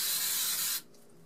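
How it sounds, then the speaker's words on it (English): Spray glue hisses onto cardboard in one steady, close burst that lasts under a second and then cuts off abruptly, leaving quiet. "you're just going to spray some of this glue on there"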